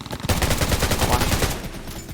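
Rapid bursts of automatic gunfire crackle in quick succession, loud and close, in the video game Undawn.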